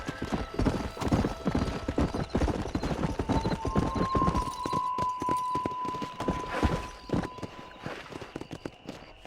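Horse hooves clip-clop in a quick, steady rhythm as a rider gallops in the Red Dead Redemption video game, with a brief whinny and continuous hoofbeats close by.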